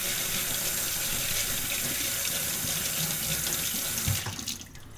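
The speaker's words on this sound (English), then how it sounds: "run some water through to wash off any dust that might be on the seed" Water runs steadily from a tap through wheat seeds in a sprouting vessel, a continuous splashing rush that cuts off near the end.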